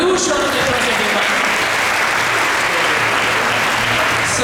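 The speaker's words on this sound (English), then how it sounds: "Give her a huge round of applause, everyone." Steady applause from an audience at a Sunday temple lecture gathering, dense and sustained throughout, with a faint voice showing briefly near the start.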